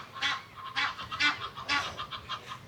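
Geese honk repeatedly in a rapid, uneven series of loud calls at a small lakeside beach in Ladenburg, fairly close, with no talking over them.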